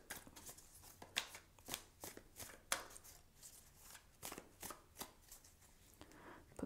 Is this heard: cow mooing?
no